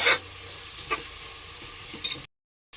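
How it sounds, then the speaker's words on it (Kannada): Ginger-garlic paste frying in a pan for Malnad chicken biryani gives a low, steady sizzle broken by a few short scraping stirs, then stops abruptly into silence. "ಈ ಶುಂಠಿ ಬೆಳ್ಳುಳ್ಳಿ ಪೇಸ್ಟ್ ಹಸಿ ವಾಸನೆ ಹೋಗೋ ತನಕ ನಾವೇನು ಮಾಡಬೇಕು ಚೆನ್ನಾಗಿ ಇದು ಮಾಡ್ಕೋಬೇಕು ಫ್ರೈ ಮಾಡ್ಕೋಬೇಕು"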